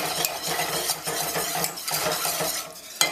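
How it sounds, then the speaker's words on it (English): A whisk clinks and swishes steadily through breadfruit pie filling with evaporated milk in a pot over a low flame, a fast rhythmic stirring at close range with no voices. "evaporated milk and continue whisking"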